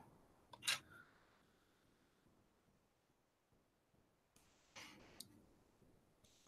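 A blade slices through a polymer clay flower cane in two short, quiet bursts a few seconds apart, each a crisp tap and scrape against a near-silent background.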